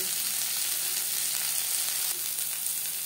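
Potatoes and cauliflower sizzling steadily in oil in a pan while being stirred, a continuous bright hiss with faint scraping, close and loud, no talking.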